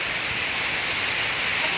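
Heavy rain roaring steadily, a dense continuous hiss with no breaks, close and loud.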